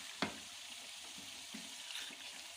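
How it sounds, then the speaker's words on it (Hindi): Chicken karahi, Peshawari Shinwari style, fries in a pan after yogurt is added, a soft steady sizzle with a sharp utensil clink early on and faint stirring scrapes. "इसके साथ ही जो हमने 2 टेबलस्पून दही लिया था वो डाल देंगे और अब इसको हम अच्छी तरह भूनेंगे"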